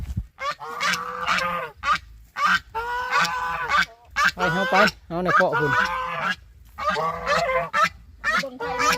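Geese honk loudly and persistently nearby in a chorus of overlapping calls, while a person speaks among them.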